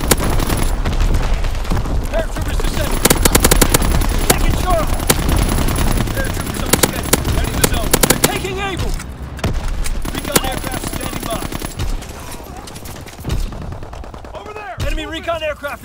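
A video game battle roars with near-continuous gunshots and machine gun bursts, dense and loud, with game voice announcements heard over the fire as it thins out toward the end.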